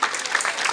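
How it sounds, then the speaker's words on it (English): Brief, steady patter of audience clapping at a college fest event, moderately loud and without a break. "Please give a big round of applause."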